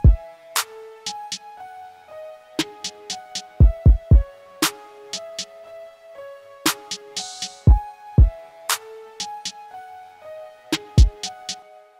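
A full hip-hop beat built in FL Studio: punchy deep kicks, crisp hi-hats and a looping melodic synth line in a steady groove, loud and close, with no talking.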